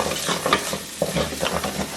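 Ginger and garlic fry and get stirred in a pan for dum aloo, giving a close sizzle broken by repeated scraping strokes of a spoon against the pan, with no talking.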